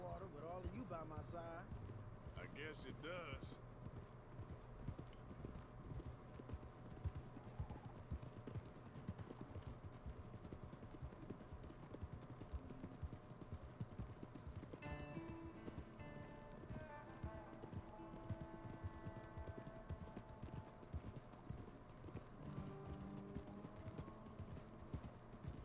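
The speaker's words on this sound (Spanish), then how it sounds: "Mi caballo es un gigante" Horse hooves clip-clop steadily in Red Dead Redemption 2 as a mount trots along, a continuous rhythmic patter beneath game music and someone talking.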